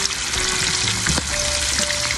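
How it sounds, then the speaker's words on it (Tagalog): Milkfish (bangus) frying in a pan, a steady dense sizzle and crackle throughout with a few faint stirring knocks, close and continuous. "habang nagpiprito si pare ko Arnold"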